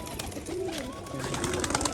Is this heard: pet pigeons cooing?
yes